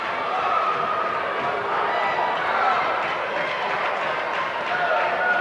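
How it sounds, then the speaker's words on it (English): A restless crowd in a gym at a 1985-86 district semifinal college basketball game fills the space with a constant, murmuring roar, busy and unbroken from start to finish. "Crowd's starting to get a little antsy now."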